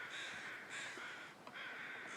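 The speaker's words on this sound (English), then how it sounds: "There are crows out." Crows caw in The Long Dark video game, three harsh drawn-out calls in a row, fairly distant and faint, with nobody talking.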